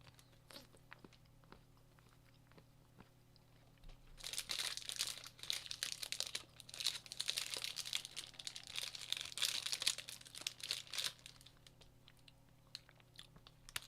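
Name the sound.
munching chocolate, eating ASMR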